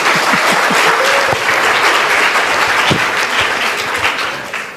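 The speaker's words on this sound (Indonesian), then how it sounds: "Aplaus dong, aplaus." Loud, steady applause from a large audience at a poetry reading and talk, a dense wash of clapping that holds for several seconds before fading slightly at the end.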